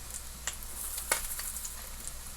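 Quiet, steady sizzling of food frying in a pan, with a few soft pops and crackles scattered through.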